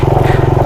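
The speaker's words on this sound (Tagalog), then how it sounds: "paahon siya, kaya hirap na hirap yung motor ko" A motorcycle engine labouring up a slope on the road to Anzap Twin Falls in Mayantoc, Tarlac, a loud, close, rapid chugging pulse under strain, steady and rhythmic for under a second with no talk.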